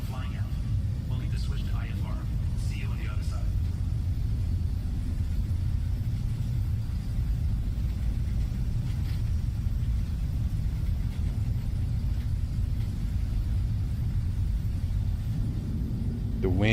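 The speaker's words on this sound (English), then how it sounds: "Listen to that rain and storm sound." Rain and storm ambience in the video game Star Citizen: a steady, dense low rumble of storm noise with wind runs throughout, continuous and fairly loud, with faint higher chatter and bursts layered over it.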